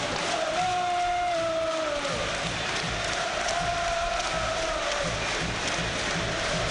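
Football stadium crowd at a Leicester vs Tottenham Premier League match, a broad steady roar of thousands of fans with rising sung chants and whistles carrying across the ground.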